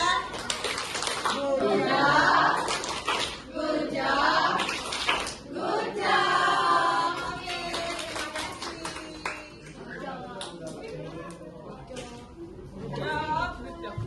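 An audience claps after a presentation, a broad patter of hands running through most of the stretch while children's and other voices talk over it.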